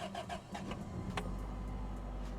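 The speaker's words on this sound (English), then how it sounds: "We're going to take Turbo Truck for a drive." Engine of a turbocharged Toyota street truck, a steady, low mechanical hum with a few light clicks and knocks at first that gives way to a deeper, even drone.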